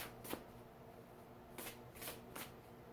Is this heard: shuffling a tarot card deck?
yes